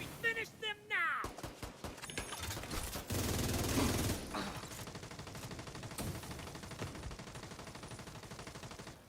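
Video game shooting: a few sharp single shots give way to a long, steady run of rapid gunfire layered with game noise, with voices heard beneath the firing.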